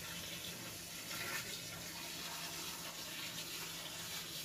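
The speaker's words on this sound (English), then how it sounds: "Okay, well that was truly amazing watching that water go in there." Water pours steadily from a garden hose into a container at an opal hand-mining dig, a continuous rushing splash with a faint low hum beneath, fairly close and unbroken.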